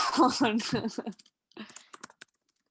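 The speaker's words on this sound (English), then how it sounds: "I'm typing, just so you know." A voice speaks briefly, then a short burst of light keyboard typing clicks follows in near silence.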